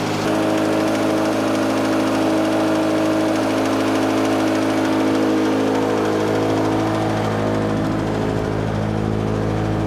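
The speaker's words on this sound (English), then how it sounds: "It's got rod knock." A car engine with rod knock runs steadily with a rough, rhythmic knocking beneath its droning idle, loud and close throughout.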